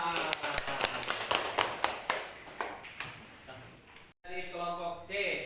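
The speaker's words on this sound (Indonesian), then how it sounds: "Terima kasih, tepuk tangan." Classroom applause after a student group presentation on Ramadan fasting, a handful of distinct claps in loose rhythm that thin out, then a brief cut and a voice speaking.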